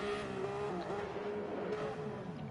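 A nearly 1,000 horsepower race car in the video game Racing Rivals drones loudly and continuously, its engine holding a steady high note under faint tire noise, with no speech.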